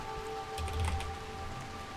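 Rain in the colony-building game Rimworld falls as a soft, steady patter with a faint low rumble and no voices.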